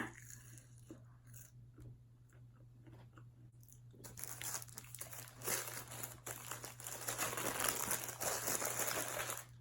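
A fast food wrapper crinkles and rustles close up, quiet at first and then growing into steady, louder crackling over a low hum.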